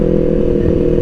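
Kawasaki Ninja 250 FI engine on a test ride, a loud, steady close-up drone with rough low harmonics and slight wavering, heard alone without talk.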